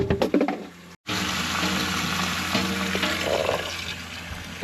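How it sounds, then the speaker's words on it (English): Water runs through a charcoal filter on a boat fitted with Detroit Diesel marine engines, making a steady close hiss and gurgle after a few brief clatters and a short gap. "you just have to run the water through, just not even for that long"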